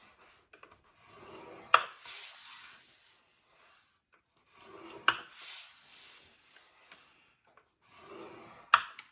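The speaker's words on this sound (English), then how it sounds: "I'm going to score it at 1 inch on all 4 sides" Three short scrape-and-rub strokes of a tool scoring 8 by 6 inch cardstock for a folding gift bag, each with a sharp tap, spaced a few seconds apart with quiet between; close and fairly soft.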